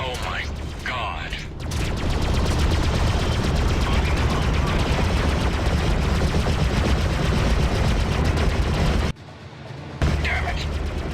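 Rapid, continuous gunfire and weapon bursts in a space battle from the video game Freelancer, dense and loud throughout, with speech over it and a brief drop near the end before the firing resumes.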